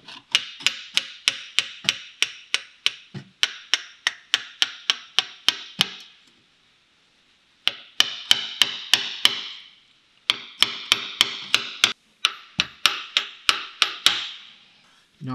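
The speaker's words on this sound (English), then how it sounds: "Now just some little taps to straighten everything up." Light hammer taps on a size 36 socket tool during a timing belt job on a Peugeot/Citroën 1.4 16v KFU engine: dozens of crisp metallic taps in quick rhythmic runs, broken by short pauses, close and alone.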